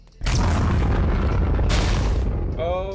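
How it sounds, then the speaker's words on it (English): Explosives detonate in the SCP:Y2K Minecraft modpack: a loud, sustained booming blast roars and rumbles for over two seconds, with a second burst partway through, then a brief tonal whine as it fades. "This explosion will have quite a delay, but that's about to go off."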